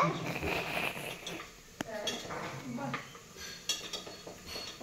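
Chicken with onion, garlic and tomato frying in a pan, a low sizzle under clinking cookware and a stirring spoon scraping the pan, with a brief sharp clatter and a voice talking over it.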